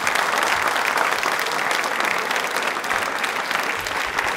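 A studio audience at a televised quiz on Birsa Munda's birth anniversary bursts into loud, dense applause that carries evenly from start to finish, with no pauses.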